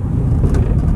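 A car engine idles steadily while stopped with the brake applied, running on rubbing alcohol instead of gasoline; a close, continuous low rumble with no revving.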